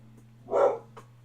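A single muffled dog bark from another room, faint and distant over a steady electrical hum, with a softer yip just after.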